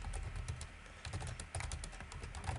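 Steady keyboard typing as text is entered on a computer, with dense, rapid key clicks running continuously at close range and no talk.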